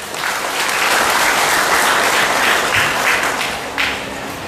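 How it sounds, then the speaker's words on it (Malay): Thunderous applause from a large crowd at an outdoor political election rally in Sabah, dense and loud, sustained for several seconds before easing slightly at the end. "Tepukan gemuruh buat mereka."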